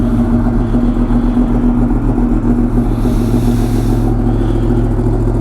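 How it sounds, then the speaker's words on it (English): A sport motorcycle engine idles loudly and steadily up close after a cold start, a constant mechanical rumble with a brief shift in hiss midway, no talking. "There's nothing better than a cold start, but as you guys can see, this bike sounds amazing"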